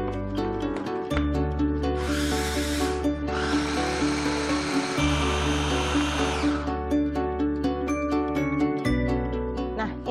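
A blender whirs on an omelette mixture of egg with salt, pepper and milk. A short burst is followed by a longer steady run over a constant mechanical drone, loud and close, with no voices.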